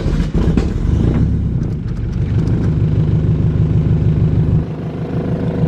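A Honda car with a K24 engine idles after a cold start on a very warm day, a loud, close, steady rumble with even pulsing and a slight drop in pitch near the end.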